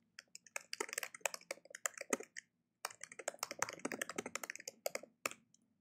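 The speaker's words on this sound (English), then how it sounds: "So I would just type that here" Fingers type on a computer keyboard in quick, irregular bursts of close, crisp key taps, with a short pause partway through; no one speaks.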